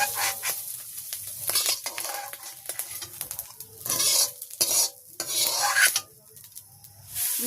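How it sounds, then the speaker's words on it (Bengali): Fried fish roe is lifted from a pan in a village kitchen, a loud and busy mix of close scraping and stirring over a steady sizzle of hot oil, with no one speaking. "মাছের ডিমটাও ভাজি হয়ে গেছে, আমি এখন নামিয়ে নিচ্ছি।"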